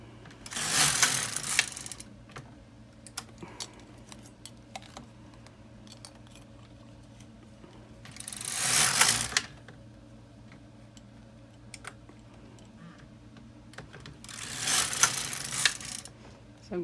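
LK 150 knitting machine carriage sliding across the needle bed, three broad whooshing rattling passes at roughly even intervals, with quiet clicks between them as needles are pulled.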